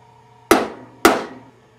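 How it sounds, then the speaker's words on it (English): Two sharp metallic taps of a small ball peen hammer striking an old nail, about half a second apart, each ringing briefly before fading. "A little ball peen hammer and an old nail."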